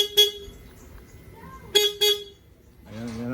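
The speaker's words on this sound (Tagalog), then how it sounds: "So, parinig ko sa inyo yung tunog niya." Stock horn of a Suzuki S-Presso car gives three short, thin honks in quick succession, fairly weak, followed by a person starting to speak.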